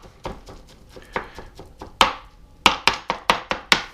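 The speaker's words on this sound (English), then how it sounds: "we'll just chop it up a little bit more" Knife chopping soft cooked spaghetti squash on a cutting board, close and crisp, with a run of separate thunks that starts light and uneven, then turns into steady, louder strokes about every third of a second.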